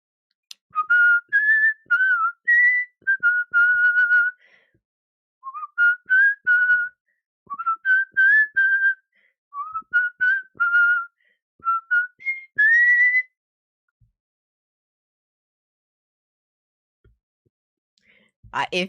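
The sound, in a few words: person whistling a melody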